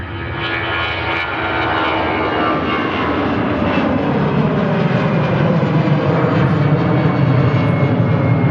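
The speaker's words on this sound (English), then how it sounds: "EasyJet on the takeoff roll." An EasyJet airliner on its takeoff roll for Copenhagen builds a loud, continuous jet roar that swells steadily and holds strong throughout.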